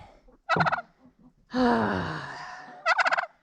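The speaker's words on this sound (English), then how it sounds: "Why am I hearing a turkey out here?" A turkey gobbles in two quick rattling bursts with a long, drawn-out call between them, loud and close, with quiet outdoor surroundings on a farmstead during a snowstorm.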